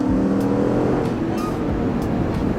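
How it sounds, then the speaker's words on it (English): A 2015 Dodge Durango R/T's V8 engine revs and pulls hard with a deep, steady roar that stays loud and close throughout, with no voices. "That's our V8 power right there."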